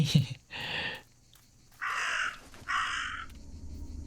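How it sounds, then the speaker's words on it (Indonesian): A raven in the video game Martha Is Dead caws three times, harsh and drawn out, with pauses between calls, over a faint low background hum. "ternyata gagaknya di sini."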